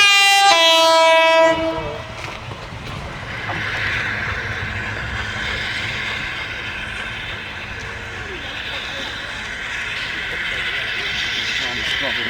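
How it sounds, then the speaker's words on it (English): British Railways Class 33 diesel locomotive 33202 arriving with a train: a short multi-tone horn blast up front, then a steady engine rumble and rolling coach noise in a rail yard. "British Railways Class 33 diesel, number 33202 Meteor, which was attached at Weymouth to haul the train to Yeovil Pen Mill"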